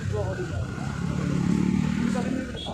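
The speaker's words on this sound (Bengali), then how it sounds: "এই দেখো স্কুটারটা যাচ্ছে।" Scooter engine droning steadily as it passes on a hilly Darjeeling road, a continuous motor rumble with traffic noise around it.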